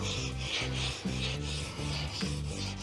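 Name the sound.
chisel bevel rubbed back and forth on sharpening stone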